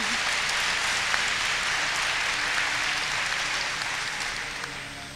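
Audience applause at a Worldcon convention masquerade, a steady broad wash of clapping from a large crowd sustained throughout and tapering slightly at the end, heard from a distance.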